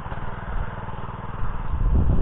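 A tractor engine works a wet, boggy field during cultivation, giving a steady, loud, close mechanical drone with a low throbbing pulse that grows slightly heavier toward the end.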